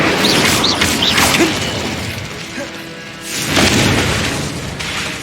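Incendio fire spell blasts in Hogwarts Legacy: loud booming bursts with whooshing tails, a cluster of quick hits early, a lull, then another heavy blast.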